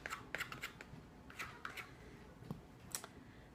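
Lemon peel being grated or scraped off a whole lemon while making an apple crumb pie, a run of soft, rhythmic, scratchy strokes close up and fairly quiet.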